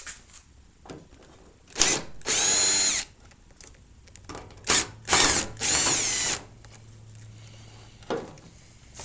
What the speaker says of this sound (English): We'll just pull out these two screws